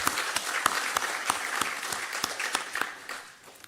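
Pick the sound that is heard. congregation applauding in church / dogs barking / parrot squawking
congregation applauding in church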